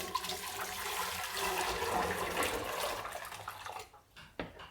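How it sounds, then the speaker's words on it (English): Water saved from chilling harvested celery drains down a kitchen sink in a steady, rushing gurgle that fades out near the end, followed by a couple of faint knocks. "I'm just going to let it go down the sink."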